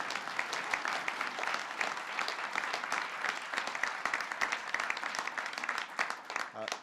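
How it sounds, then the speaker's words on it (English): An audience gives sustained, dense applause for Attorney General Eric Holder at a presidential event, with many hands clapping steadily throughout and no break in the sound. "You can give him a round of applause."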